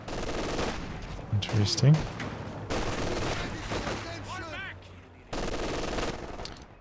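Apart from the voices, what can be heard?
Maxim machine gun firing in video game Company of Heroes 2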